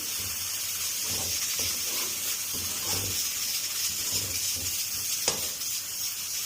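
Ginger garlic paste, two spoonfuls, sizzling in a hot pan while cooking rajma masala: a steady hiss of frying with soft rhythmic stirring scrapes and one sharp tap, close and alone without talk.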